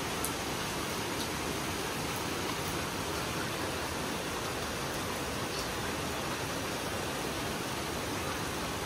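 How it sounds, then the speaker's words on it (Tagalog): Steady rain falling outside in the Philippines, a dense, even hiss that stays constant throughout with no voices. "Pero pag umulan ng ganyan, ang sarap."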